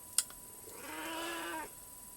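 A cat meows once in a drawn-out, plaintive call over a faint electronic hum, preceded by a brief click.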